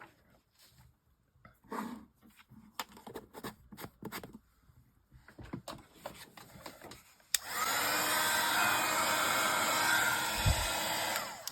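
A heat gun roars on steadily for several seconds while heat-setting embossing powder on a crafting project, after a stretch of quiet handling and light tapping sounds.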